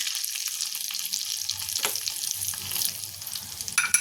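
Chillies and Kashmiri red chili powder stirred with a spoon in hot oil for a tadka, a continuous close sizzle with soft scraping and occasional clinks of the spoon.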